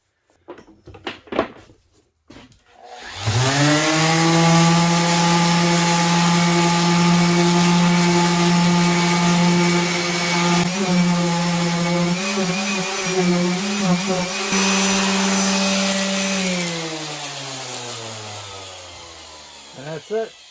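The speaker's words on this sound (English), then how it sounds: "Quick work with the belt sander." A belt sander working a walnut bar top starts up after a few brief knocks and runs as a loud, steady whine with shifting pitch as pressure changes, then spins down near the end.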